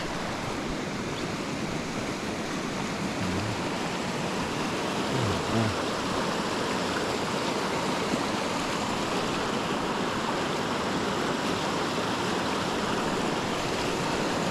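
A mountain creek in trout country flows steadily, a constant close rushing wash of water with no break, heard alone without voices.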